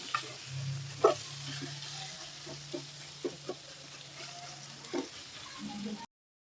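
Chopped onions fry softly in a pan for a dried prawn dish, a low quiet sizzle with occasional light scrapes and taps of a spoon, fairly faint and without talk.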